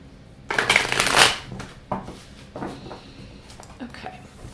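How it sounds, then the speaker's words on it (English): Tarot cards shuffled by hand in a loud, close burst of riffling lasting under a second, followed by a few softer card taps and slides. "I apologize if the shuffling is really loud."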